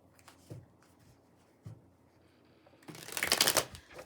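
Tarot cards are handled with a couple of soft taps, then shuffled in a quick, close riffling burst near the end, fairly quiet overall.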